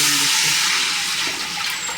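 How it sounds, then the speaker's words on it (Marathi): Water pours steadily into a pot of hot oil as kurdai batter is prepared at home. It makes a loud, close, continuous rushing splash with no breaks. "आता मी पाणी घालून घेते"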